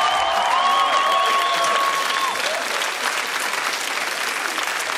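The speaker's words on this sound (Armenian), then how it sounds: "Եկեք ծափերով մի հատ Լիլիին դա ապացուցենք" Studio audience at a comedy show claps steadily for a guest named Lili, dense applause filling the whole stretch at an even, lively level with a faint background tone early on.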